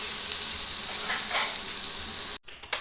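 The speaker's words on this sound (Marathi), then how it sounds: "इथे कांदा आणि टोमॅटो भाजून घ्यायचं आहे एका कढईमध्ये" Close, continuous sizzling of onion and tomato frying in a wok, cutting off abruptly near the end.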